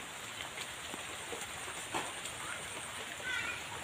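Light drizzle falling outside a house in the countryside, a soft even patter with a steady high insect-like hum behind it, quiet and continuous.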